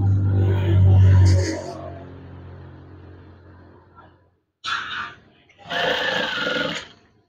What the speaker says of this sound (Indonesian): Ya, jahitlah.